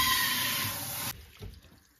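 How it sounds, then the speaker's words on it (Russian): Water pours from a tap into a small pot in a home kitchen, a steady rushing stream that cuts off abruptly, followed by faint clinks and drips. "Просто наливаю воды туда."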